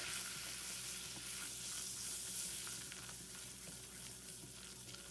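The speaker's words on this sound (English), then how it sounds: "So you whisk in the flour." Flour is whisked into a rarebit sauce in a pan, giving a continuous soft, hissing, sizzling scrape at low volume with no voices.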